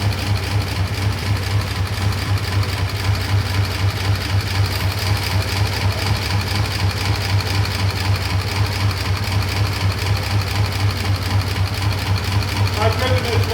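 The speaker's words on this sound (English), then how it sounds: "I just love the sound of that. All those tappets." A car engine idles loud and close in a museum garage, its steady low rumble overlaid with a fast, even ticking of tappets that runs unbroken throughout.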